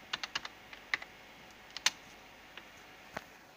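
Computer keyboard typing while starting a Linux desktop, a handful of scattered close keystrokes with brief gaps, faint and without speech.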